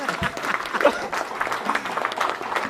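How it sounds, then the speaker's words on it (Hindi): Audience applause at a Hindi kavi sammelan poetry event, a dense sustained patter of many hands clapping at steady loudness through the moment, with some speech-like sound mixed in. "एक बार तालियां बजा दीजिए"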